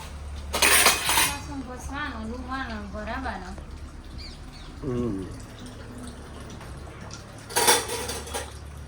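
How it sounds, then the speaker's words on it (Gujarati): Dishes and utensils being washed at home, with metal vessels clinking and clattering in short bursts, including two louder runs of clatter, while people talk nearby. "વાસણ"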